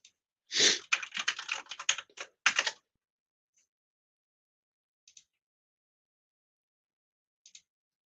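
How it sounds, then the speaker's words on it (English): A quick burst of keyboard typing, clicky and close, for about two seconds, followed by silence and a couple of isolated soft key taps. "Can hear my keyboard clacking at least."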